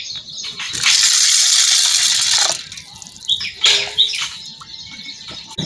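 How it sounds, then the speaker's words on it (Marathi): Water pours onto chana dal set to soak, a loud gushing splash lasting about two seconds, followed by a few sharp clinks and light splashes. "आता पाणी ओतून घेऊ."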